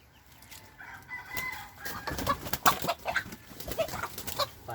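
Wary chickens cluck and squawk in agitated bursts, with rustling and scuffling nearby as the birds scramble about under a house.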